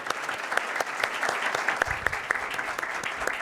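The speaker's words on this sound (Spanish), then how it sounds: "Les pido por favor un aplauso para todas las personas que hacen parte de este equipo." A roomful of people claps for a corporate diversity team during a training session, with individual sharp hand claps standing out from a steady patter.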